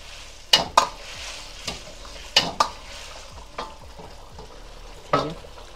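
Restaurant-style veg Manchurian gravy bubbles softly in a pan while a spoon scrapes through it in a few sharp, uneven strokes, with quieter sizzling between them.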